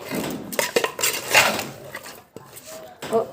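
A spoon clinks and scrapes against a pot as biryani ingredients with black pepper powder are mixed, producing irregular close metallic knocks and stirring sounds amid faint kitchen noise.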